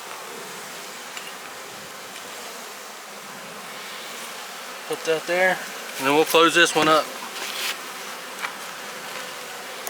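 Honey bees buzzing at an open hive during a cell-acceptance check, a steady low drone throughout with someone talking over it partway through.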